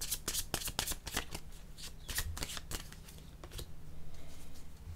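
A deck of yellow tarot cards being shuffled in quick, crisp riffling bursts that repeat steadily over a faint low hum, close and fairly quiet.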